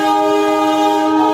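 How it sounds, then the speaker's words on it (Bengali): The Darjeeling toy train sounds its horn as it starts to move: a loud, steady, close tone held without a break. "এই ট্রেন চলতে শুরু করলো"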